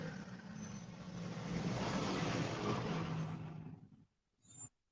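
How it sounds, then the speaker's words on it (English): Passing road traffic rumbles and hisses loudly for a few seconds, then cuts off abruptly, leaving near silence with a brief faint noise at the end. "Sorry about the road noise, guys."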